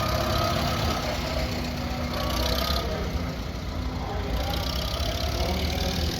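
A shop mule tractor rolls by in a Red Power parade, its engine running with a low, steady knocking rumble while people talk over it.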